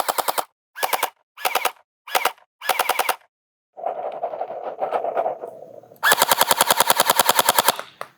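A NERF Pro Gelfire Mythic gel blaster fires in several short rapid bursts, then a softer whirring motor hum, ending in a long fast continuous stream of shots, close and loud.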